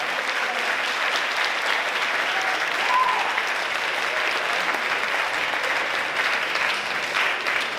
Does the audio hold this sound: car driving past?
no